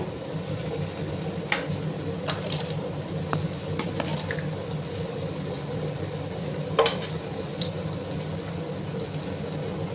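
Boiled raw papaya fries in a pan on a low gas flame, with a steady quiet sizzle and a few light stirring scrapes and clinks, close by and without speech.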